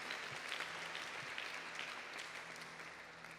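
A church congregation claps for its pastors, a steady dense wash of applause from many hands that fills the whole stretch at a constant level.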